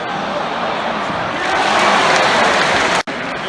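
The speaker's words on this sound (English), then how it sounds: "The geezer standing up, clapping at the end, and clap he might." Football stadium crowd applauding, a broad, steady wash of clapping and crowd noise that swells slightly midway before cutting off abruptly near the end.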